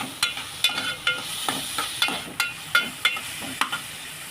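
Spices, onion and tomato sautéing in oil for a bottle gourd kofta gravy: a soft sizzle with regular, evenly spaced stirring scrapes, about a dozen strokes, close and fairly quiet with no voices.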